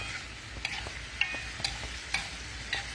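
Onions and hamburger steak sizzle quietly in a pan, with a soft steady fry and several sharp scraping stir strokes at irregular intervals, close by and without talk.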